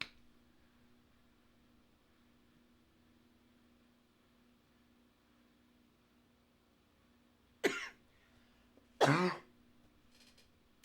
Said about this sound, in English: I'm so sorry I'm coughing so much.